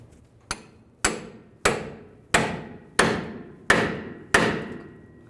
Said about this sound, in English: I'm going to take a pickle fork and separate the tie rod from the knuckle